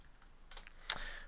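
A few quiet clicks of typing on a computer keyboard, two or three soft keystrokes followed by one sharper tap, close and faint with no speech.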